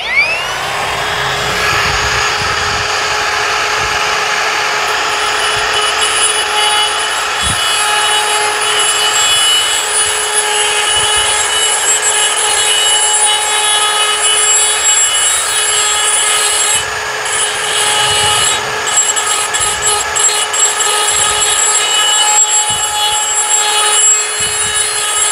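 DongCheng cordless brushless die grinder smoothing the inside of a pipe, a loud continuous high-pitched whine with grinding scrape, steady and close for the whole stretch.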